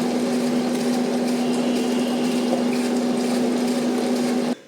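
An electric wet grinder churns soaked rice into coarse adai dosa batter, a loud steady motor hum with a constant tonal whine and sloshing wet grinding, running continuously before cutting off at the end.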